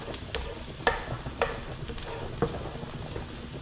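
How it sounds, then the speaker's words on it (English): Small chopped onions sizzle and fry in a pan for a clam spaghetti sauce, giving a steady close hiss broken by a few soft stirring knocks, with no talk. "Just sweat it down, the onions."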